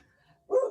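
A dog gives one short, close bark after near silence.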